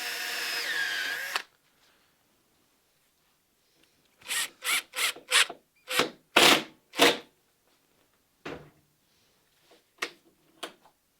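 A power drill drives a screw into wooden lapstrake boat planking in a series of short, loud whirring bursts that speed up and stop, with a few brief spurts afterward and a separate tonal sound before them.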